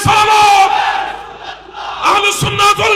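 A large rally crowd roars a unified chant in reply to the Nara-e-Takbir call, loud and massed, dipping briefly before swelling again.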